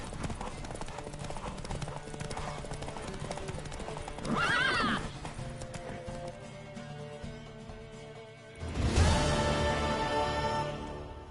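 Horses gallop with steady hoofbeats during a horse race in The Witcher 3: Wild Hunt while a horse whinnies loudly twice, over continuous game background sound.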